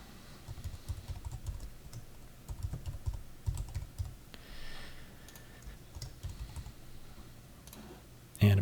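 Quick, close tapping on a computer keyboard while an email address is entered, coming in uneven bursts with short pauses, then a louder bump at the very end.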